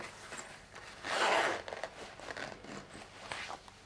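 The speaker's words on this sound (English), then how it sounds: "so you can open the zipper" A zipper on a sewn boxy fabric pouch is pulled open in one quick, raspy zip near the microphone, followed by softer rustling and handling of the fabric.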